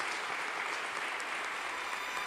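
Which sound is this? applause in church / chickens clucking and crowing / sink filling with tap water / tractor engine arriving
applause in church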